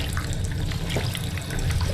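Water flows in a steady, close, continuous stream, with no voices and no breaks, as a character drinks their fill in the Fallout 4 video game.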